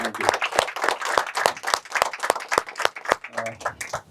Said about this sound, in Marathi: कृपया जोरदार टाळ्यांच्या गजरात आपण आजच्या मान्यवर पाहुण्यांचे श्री शुभम महाजन यांचे मनपूर्वक स्वागत करूया